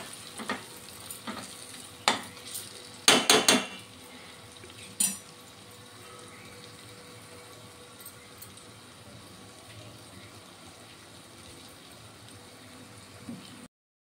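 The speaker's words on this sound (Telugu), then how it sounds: "ఇది ఆయిల్లో కాసేపు బాగా వేగనివ్వాలండి ములక్కాడ ముక్కలు." Drumstick (moringa) pieces fry in oil with masala in a pan, a faint continuous sizzle broken by a few sharp stirring clatters early on, close and without talk.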